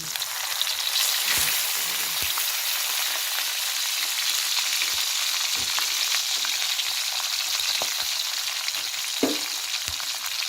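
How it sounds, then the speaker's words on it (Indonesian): Spice paste hits hot oil for a stir-fry of meatballs and vegetables, giving a steady, bright sizzle with a few louder spatters and pops, close and continuous with no talking. "minyak sudah panas, kita masukkan bumbu-bumbu yang sudah disiapkan tadi"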